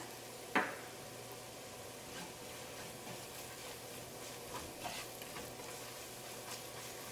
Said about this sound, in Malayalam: മുളകിൻ്റെ പൊടിയേക്കും ഈ വെളിച്ചെണ്ണ നന്നായിട്ട് ചൂടായിട്ടിരിക്കുന്നതിനും ഇതിലേക്ക് ഇട്ട വഴിക്കുന്ന അതും മുരിയും.